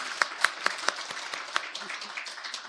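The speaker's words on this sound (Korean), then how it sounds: "우리 격려의 박수 하겠습니다." A church congregation claps in encouragement at a Sunday service, a scattered, modest patter of hands with a few sharper individual claps standing out, fairly faint and brief.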